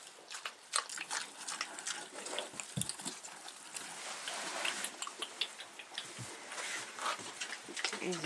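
Pigs, including a boar, eat feed in a dimly lit barn in the evening, making faint, wet, irregular chomping and smacking sounds with occasional louder crunches.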